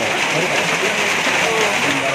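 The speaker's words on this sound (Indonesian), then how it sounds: "ini lagi hujan" Steady rain pours on a mountain hike up Gunung Slamet, a dense, even hiss that fills the whole stretch at close range without a break.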